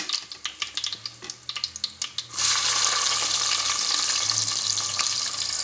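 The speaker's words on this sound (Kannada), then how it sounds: "ಈಗ ಜಜ್ಜಿದ 1-2 ಬೆಳ್ಳುಳ್ಳಿ ಹಾಕುವ, ಕರಿಬೇವು ಹಾಕುವ ಸ್ವಲ್ಪ. ಈಗ ಚೆನ್ನಾಗಿ ಫ್ರೈ ಮಾಡುವ." Crushed garlic and curry leaves hit hot oil for a pomfret curry, bursting into a loud, steady sizzle after a run of light tapping and stirring clicks against the pan.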